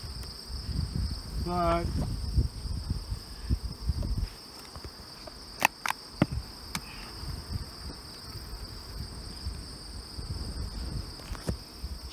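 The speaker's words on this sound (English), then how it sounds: "So there's a lot of bees in that box." Many bees buzz inside a hive box after a bee escape test, making a continuous close droning hum. A voice cuts in briefly early on, and a few faint clicks sound over the buzzing.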